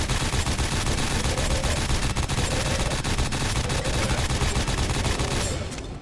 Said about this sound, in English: the frame rate chugs so much that the machine guns can't even fire at a consistent rate